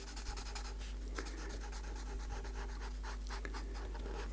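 A pen scratches steadily across paper, drawing dark lines around pencil highlights in a continuous close rubbing texture over a low electrical hum.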